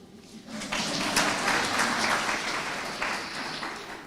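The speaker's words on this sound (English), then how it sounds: "clap." Conference audience clapping at a university event in Kabianga, applause swelling in after a brief pause and holding steady at moderate distance before easing slightly.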